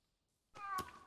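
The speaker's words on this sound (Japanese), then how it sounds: "猫の鳴き声したから今一瞬。" A single short cat meow sounds in the horror video game NextDoor, fairly clear after a moment of near silence.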